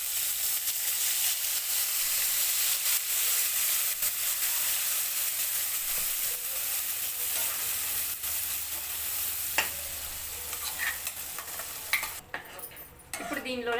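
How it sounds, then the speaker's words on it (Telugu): Blended puree hits a hot pan for paneer bhurji and sets off a loud, continuous sizzle and hiss, with spoon scrapes and clinks toward the end and no talking. "ఇప్పుడు ముందుగా మిక్సీ చేసుకున్న ప్యూరీని మొత్తం ఇందులో వేసుకుందాం."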